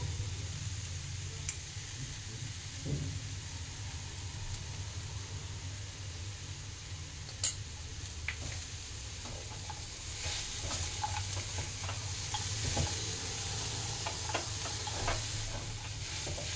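Vegetable chop filling stirred and frying in a pan for Bengali veg chop, with a steady soft sizzle and occasional scraping spoon clicks and taps, fairly close, no talking.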